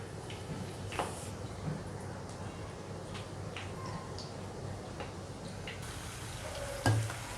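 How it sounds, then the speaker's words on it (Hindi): Bread pieces frying in hot ghee on a low flame, a steady soft sizzle with occasional light clicks and taps of a utensil, no talk. "ब्रेड के टुकड़े डाल देंगे एक एक करके।"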